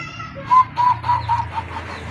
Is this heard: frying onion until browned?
no